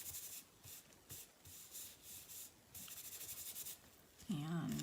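An embossing buddy powder pouch is rubbed over paper, making soft rhythmic brushing strokes in several bursts, followed by a short low, faint sound at the end.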